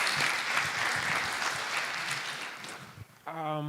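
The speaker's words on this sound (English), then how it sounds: "Let's clap for her." Audience applause at a youth SDGs pre-conference, a full steady clapping crowd that thins out near the end, where a voice begins.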